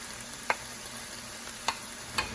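Sausage and shrimp stirred into fried cabbage in a hot pan, under a steady low sizzle with three distinct scraping clinks of a utensil against the pan.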